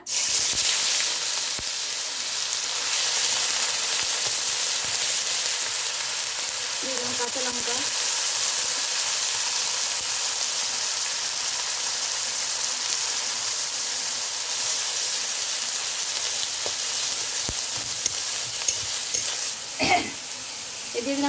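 Cumin seeds, dried red chillies and onion paste tempering in hot oil for a Bengali fish curry, giving a steady loud sizzle and hiss throughout with occasional stirring scrapes.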